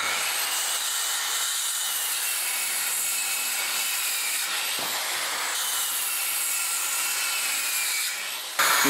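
A continuous, bright Makita MT M5802 circular saw noise grinds through wooden boards for several seconds without pause, then cuts off abruptly near the end.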